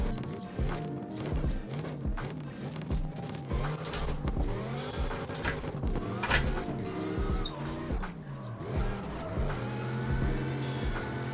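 A car engine in the video game CarX Drift Racing Online 2 revs and rises in pitch in repeated throttle bursts, with sharp clacks and thumps between the revs and no talk over it.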